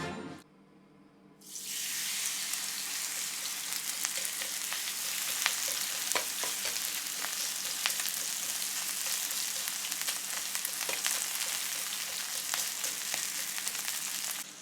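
Korean pancake batter with chives, carrot, zucchini, squid and onion hits a hot pan after a brief quiet moment, then sizzles and crackles loudly and steadily with frequent pops, close by and without speech.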